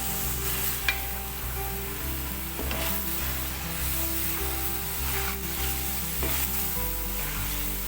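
Spinach and potatoes sautéing in a pan give a loud, continuous sizzle, broken by repeated scraping stirs every second or so, close up and without talk.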